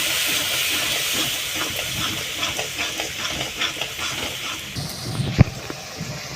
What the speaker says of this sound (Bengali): অল্প করে জল দিলাম এবার সব মশলাগুলো একটু ভালো করে ভেজে নেব